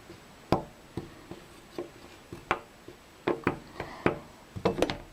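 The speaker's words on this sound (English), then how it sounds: "you take your knife and you just cut them" A knife chops sweet potatoes into fries on a board, producing a dozen or so sharp, close taps at an uneven rhythm that quicken near the end, with nothing else heard.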